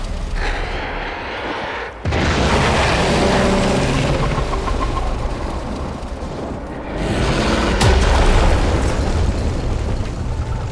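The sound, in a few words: explosion in Warframe video game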